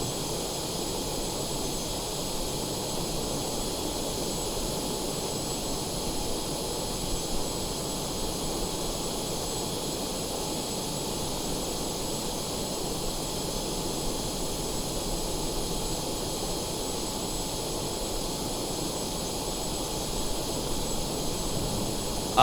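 Steady broadband roar of F-18 jet engines in afterburner in Microsoft Flight Simulator 2020, a continuous even rush with hiss in the highs, unbroken and constant throughout with no voices.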